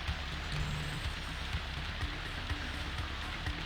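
Rain in the video game Grandia pours down as a steady, even hiss, with faint scattered drops tapping at an irregular beat and nothing else over it.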